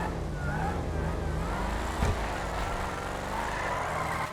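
A supercharged San Andreas Autos car in GTA 5 Online drones steadily up close, its engine note rising and falling with a thin whine riding on top and a brief thump near the middle.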